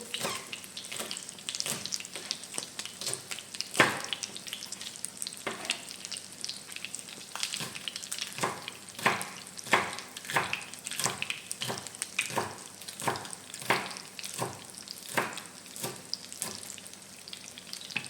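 Eggplant frying in a pan with tuna nearby: a dense, close crackle and sizzle of oil that keeps going throughout, with sharp spits and pops scattered across it.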